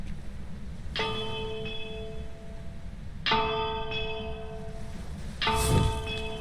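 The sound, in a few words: bell rung in video game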